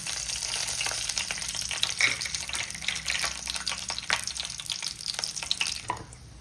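Whole spices such as cinnamon, cardamom and cloves fry in hot oil for a mushroom curry, giving a dense, steady sizzle with crackling spits throughout that eases slightly at the end.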